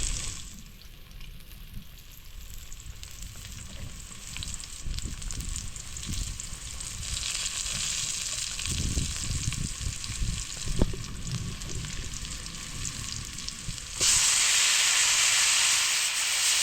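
Pork with mustard greens sautéing in a pan, a steady close sizzle and hiss with occasional stirring clatter, the frying growing noticeably louder and brighter near the end.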